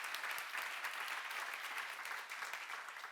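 A church congregation applauds in a dense, continuous wash of many hands clapping, steady and moderately loud for the whole stretch with no voice standing out.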